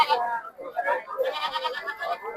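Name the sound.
goats bleating at a livestock market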